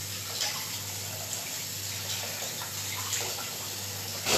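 Running tap water splashes steadily as something is rinsed beneath it, a continuous close hiss and gurgle with small spatters throughout and no speech.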